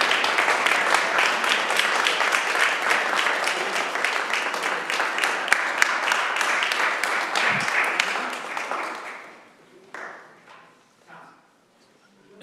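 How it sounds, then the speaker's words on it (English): Sustained applause from a crowd at a city council meeting honoring student athletes, dense and steady for several seconds before thinning out into a few scattered claps. "Let's clap it up for our student athletes"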